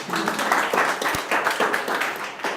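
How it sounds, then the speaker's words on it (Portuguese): Workshop participants applauding together in a room, brisk clapping from a small group with a slightly uneven rhythm, close and moderately loud, with a few voices mixed in. "Salva de palmas aí, pessoal."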